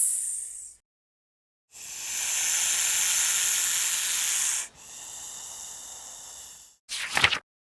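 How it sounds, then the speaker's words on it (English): A snake hisses in long, loud, breathy bursts: one short, one sustained for several seconds, then a softer stretch and a final sharp puff, separated by silence. "Snake goes hiss."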